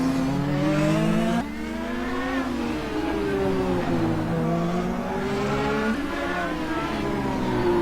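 Race cars drag racing down the front stretch at Long Beach, engines screaming at high revs with rising and falling pitch as several cars pass, loud and continuous throughout with no talk.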